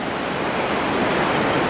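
Ocean surf washing onto a beach at Ao Noppharat Thara in Krabi, Thailand, near rock barriers, a steady broadband rushing roar that stays even and fairly loud throughout with no voices.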